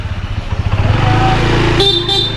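Motorcycle pulling away close by, its engine pulsing and rising, then a horn tooting twice near the end, with no talk over it.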